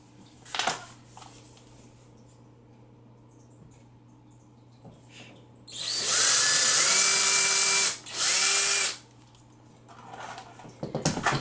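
A power drill slowly drives long screws into a wooden shelf on a wood and pipe build, giving two loud sustained whirring bursts with a short pause between them, after quiet handling noises.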